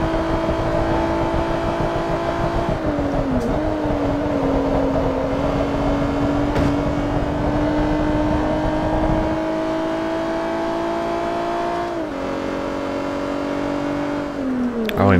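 A race car engine in Forza Motorsport 3 drones steadily and loudly throughout, with pitch shifts as it changes gear and revs, holding close and continuous.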